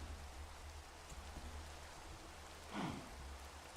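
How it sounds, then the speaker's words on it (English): Rain falling in the Minecraft video game, a soft, steady hiss of rainfall with a low rumble beneath it and a brief swell near the end, faint and continuous. "only so much of the rain noise I can take"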